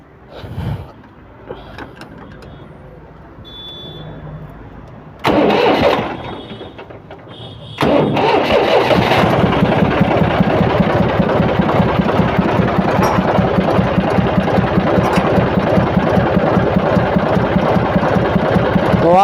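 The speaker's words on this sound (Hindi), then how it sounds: "तो अब हम इसके बाद हम ट्रैक्टर को स्टार्ट करते हैं" A tractor engine is cranked and starts, first some clunks and a short burst, then a steady loud rhythmic diesel-like idle running continuously to the end.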